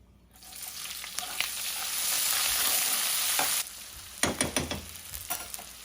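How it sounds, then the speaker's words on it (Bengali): Onions frying in hot oil with whole spices such as cardamom, black pepper, cinnamon, bay leaves and cloves, a steady close sizzle that swells loud, then breaks into a few stirring scrapes and crackles near the end. "এখন ওয়েট করব পেঁয়াজটা যাতে একটু ভালোভাবে ব্রাউন হয়।"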